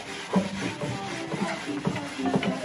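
Fine wire wool rubs back and forth across a wooden surface in short, uneven strokes, a soft close scratchy shuffle with no talk.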